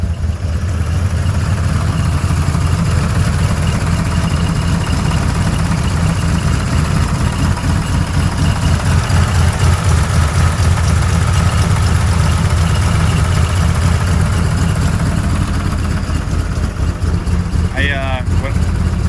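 Ford F100 rat rod engine idling loud and close, a steady deep rumbling thrum holding for the whole stretch, with a brief voice near the end.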